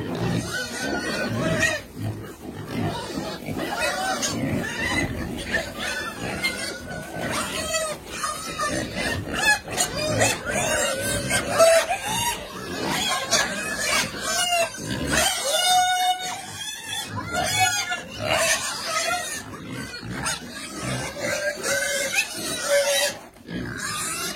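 Pigs on a Karbi Anglong farm grunt and squeal continuously at close range, with chickens clucking in the background; dense, busy farmyard noise throughout with no clear voices.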